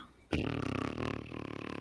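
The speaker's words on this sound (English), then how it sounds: "Fart noise." A single fart noise bursts in abruptly and sustains with a buzzy, fluttering rasp for over a second, close and fairly loud, with no talking.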